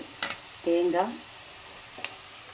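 Onions sauté in a pan with a steady low sizzle. A short tonal voice-like sound rises briefly in the middle, and a couple of faint clicks come at either end.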